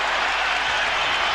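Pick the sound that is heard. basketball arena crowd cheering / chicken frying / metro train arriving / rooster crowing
basketball arena crowd cheering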